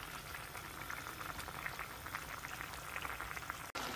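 Koi fish curry with rujot leaves bubbling steadily in a pot, a dense continuous boiling hiss and simmer, close and even throughout with no talk.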